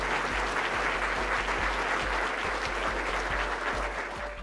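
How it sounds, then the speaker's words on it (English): Sustained applause from a large audience at a SOLIDWORKS World user group meeting, a dense even wash of clapping filling the room with a steady low hum beneath, holding loud and fading slightly at the end. "everybody just needs to give everybody in this room a huge round of applause right now"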